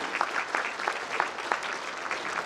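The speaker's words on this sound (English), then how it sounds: "if you'll give yourselves a round of applause and thank you so much for being here." Audience applause at an MLK Jr. Unity Breakfast held by an Alpha Phi Alpha fraternity chapter, moderately quiet but steady clapping from a seated crowd, with individual sharp claps popping out of the continuous patter.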